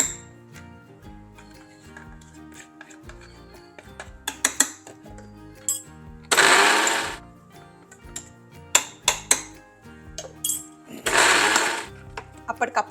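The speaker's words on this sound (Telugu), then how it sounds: "ఇలాగే మనం మిక్సీ పట్టుకోవాలి మధ్య మధ్యలో మిక్స్ చేస్తూ" A mixer grinder grinding mint and dried red chillies for pickle whirs in two loud, short bursts, separated by clinks and knocks of a jar and utensils, with some quiet background sounds.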